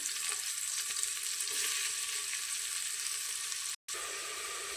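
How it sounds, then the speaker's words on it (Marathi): Finely chopped onion fries in a ladle of oil in a pressure cooker, making a steady, even sizzle close by that cuts out for a split second and then resumes, with no voices. "एका कुकरमध्ये एक पळे तेल ओतलेलं आहे त्यानंतर बारीक चिरलेला कांदा टाकून घेऊया"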